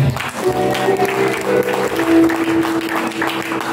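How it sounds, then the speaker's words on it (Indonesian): An audience claps during a church testimony gathering, a dense continuous patter under a sustained tonal hum that could be music or voices. "Tepuk tangan."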